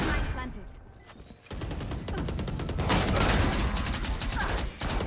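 Shotgun fire in Valorant: loud, sharp blasts in a rapid irregular volley, building into sustained gunfire after a quieter start, with a player's voice talking over it.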